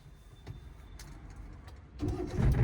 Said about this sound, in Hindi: इंजन स्टार्ट हो गया